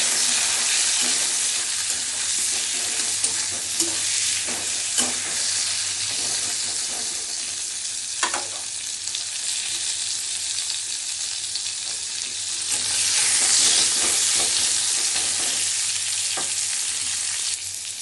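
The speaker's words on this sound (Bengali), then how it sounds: "ফ্রাই হয়ে গেছে, এখন তুলে নেব।" Pointed gourd frying in hot oil with salt and turmeric, a loud continuous sizzle that carries throughout, with occasional scraping taps of a spatula stirring in the pan.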